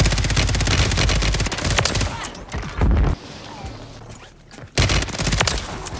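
Rapid FJX HORUS submachine gun bursts in Warzone 3, loud and close, firing in dense strings that break off into brief gaps before another burst resumes.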